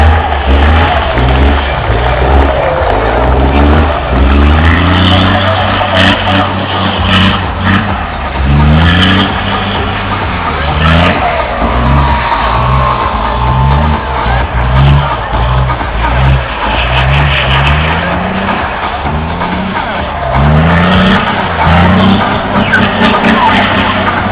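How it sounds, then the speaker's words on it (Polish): A drifting racing truck's engine revs hard on a track at a truck drift event, loud and close, rising and falling in repeated surges of acceleration throughout. "I jeszcze raz brawa dla driftującej ciężarówki."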